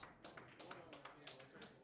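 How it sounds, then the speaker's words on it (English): A billiards team claps at a pool tournament. Quick, faint patters of hand claps sound at a distance, underneath a commentator's voice. "You hear his team over there clapping for him on it."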